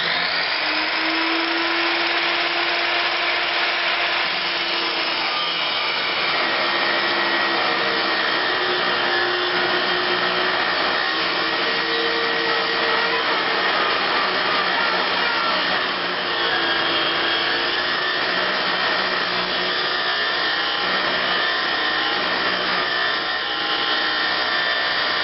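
Continuous loud whine of a power tool cutting a solid chrome alloy steel part for a fat tire minibike rear end, steady and close throughout with slight shifts in pitch as the cut progresses.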